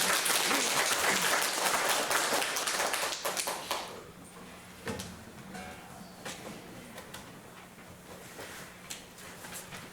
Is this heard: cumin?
no